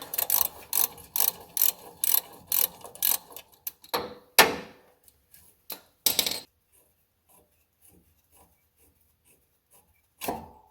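A ratchet clicks in quick repeated bursts while loosening the last exhaust manifold bolt on a Ram 1500 with a 5.7 Hemi. Sharp metallic clacks and a few louder knocks follow, then near silence.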